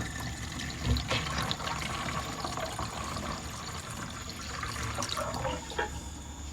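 Water running from the tap into a newly plumbed sink in a van, a steady close rushing and splashing flow that carries on without a break.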